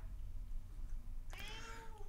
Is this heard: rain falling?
no